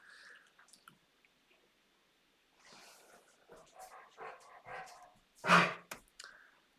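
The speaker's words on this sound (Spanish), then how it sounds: "Esperen un segundo porque el perro me está pidiendo." A dog indoors makes a single loud, sharp vocal burst after a stretch of soft clicks, shuffling and chewing-like noises, with quieter sounds before and after.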